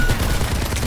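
Rapid bursts of gunfire from Overwatch in a 6v6 match, dense overlapping shots filling a short moment at steady loudness with no talk.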